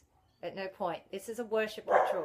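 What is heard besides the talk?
dog barking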